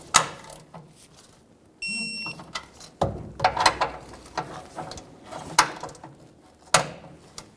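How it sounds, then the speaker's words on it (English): A torque wrench ratchets on the rear bumper bracket bolts of a 2005-2015 Toyota Tacoma, giving quiet, irregular mechanical clicks up close, with a brief steady tone partway through. "Torque the bolts to 48 foot-pounds."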